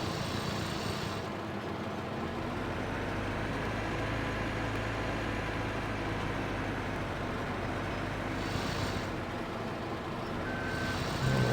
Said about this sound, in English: This is just a grinder and it's doing rather well.